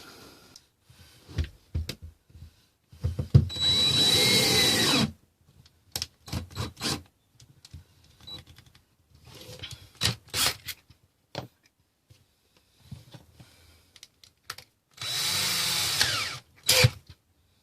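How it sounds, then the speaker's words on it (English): Cordless drill driving screws into a door threshold during a repair, two sustained whirring bursts between scattered clicks and handling noises. "now we can put the screws in, and that job is done"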